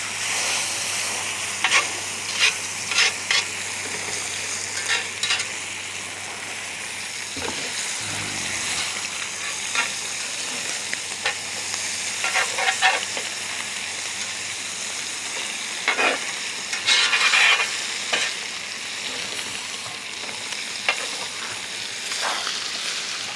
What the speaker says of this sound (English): Go ahead and baste that steak through that butter a bit.